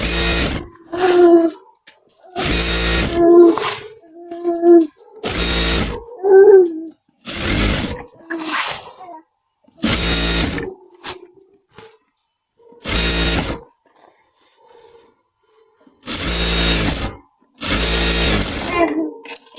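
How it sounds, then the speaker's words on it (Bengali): Sewing machine stitching an elastic casing half an inch in on a child's salwar, running in repeated loud bursts of rapid mechanical clatter separated by short pauses, with faint handling sounds between. "হাফ ইঞ্চি ধরে এইভাবে সেলাই করে নেব"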